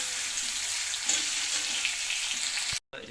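Ingredients sautéing in a pan for tamarind curry give a steady, close broadband sizzle with faint stirring scrapes, cutting off abruptly near the end before resuming briefly.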